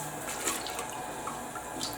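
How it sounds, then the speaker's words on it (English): Water running out of a toilet bowl's rim while a toilet brush scrubs it, a steady close trickle with light dripping splashes and no voices. "While the water is running out of the rim"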